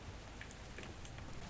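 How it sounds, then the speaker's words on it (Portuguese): Soft, steady rain falls in a dark horror video game set at a serial killer's house, a faint continuous hiss with scattered drip ticks and no voices. "Sonzinho de chuva. Agradável."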